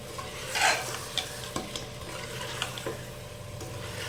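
Chicken mixed with a little homemade garam masala in a frying pan, stirred with scraping strokes over a low steady sizzle, with a louder scrape near the start and a few soft clicks.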